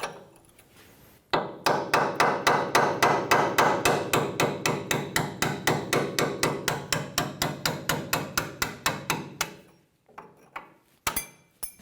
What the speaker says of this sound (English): We're going to use a hammer and a chisel